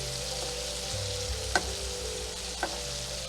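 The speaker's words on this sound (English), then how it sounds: "Tilt the pan and baste it" Scallops sizzle in brown butter in a tilted pan while being basted, a continuous close frying hiss broken by a couple of sharp utensil clinks.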